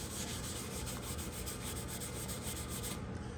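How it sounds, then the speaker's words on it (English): Scuff pad scrubbing the TIG-welded steel chassis of a 1965 Pontiac Tempest after acid etching, a steady, close, rhythmic rubbing with quick back-and-forth strokes that stops abruptly near the end. "you're just going to take a scuff pad"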